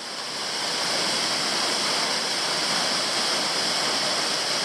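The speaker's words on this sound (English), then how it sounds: "Well, I'm at the next waterfall. This one I've seen before. Beautiful, Boxlog Falls." Steady, full-bodied rush of falling water at Boxlog Falls on West Canungra Creek in Queensland, flowing a little lighter than usual, heard close and continuous with no voices.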